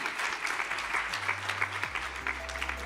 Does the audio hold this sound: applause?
yes